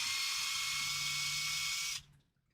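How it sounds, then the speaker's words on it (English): A power drill bores into a 3D printed RC shock spring cup, making a loud, steady whine with a low hum underneath. It runs for about two seconds, then cuts off abruptly into near silence. "you put this 3D printed spring cup and you drill it like that"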